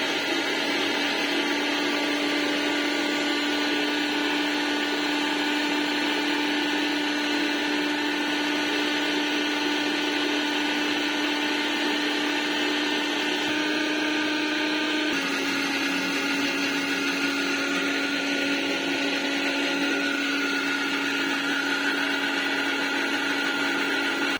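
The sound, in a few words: mixer grinder grinding masala paste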